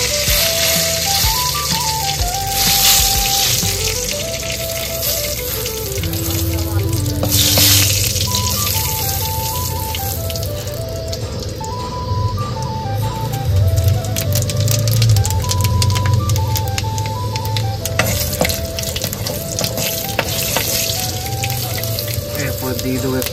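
Chillies frying in hot oil in a pan inside a parked truck's cab, a steady sizzle throughout with a melodic tune playing over it.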